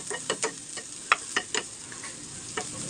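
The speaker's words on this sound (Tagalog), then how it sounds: "Halu-haluin hanggang to ay mag-brown." Pancit canton being stirred and fried in a pan, a steady sizzle with irregular scraping knocks of the utensil against the pan, close and moderately loud, no voices.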